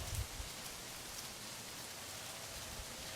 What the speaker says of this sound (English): it just sounds so pretty with the rain, and then the church bell.